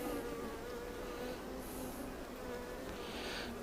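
Honey bees buzz around hive frames during a beekeeping inspection in Texas, a soft, steady, continuous hum held at low volume throughout, with no voices.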